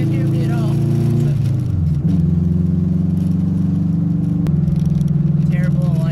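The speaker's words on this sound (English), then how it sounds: "this car has a V16 with V17 crank, and it sounds cool. It's loud." A loud car engine runs steadily nearby, its low rumble shifting pitch slightly as it idles and revs gently.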